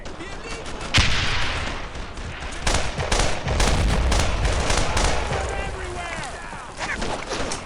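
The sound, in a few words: gunfire in video game Brothers in Arms: Earned in Blood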